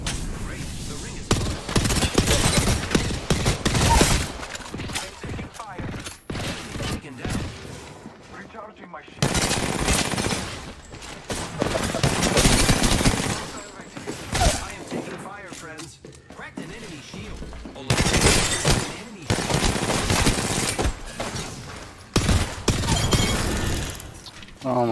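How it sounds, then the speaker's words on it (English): Gunfire in a battle royale video game rattles in long, loud automatic bursts with brief pauses between them, mixed with game voice lines and people talking over the action. "Opening fire on the enemy."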